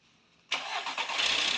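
A Volkswagen Vento, just back from engine repair with fresh coolant added, cranks and fires up after a brief quiet moment, then settles into a steady, close-up running note that grows slightly louder.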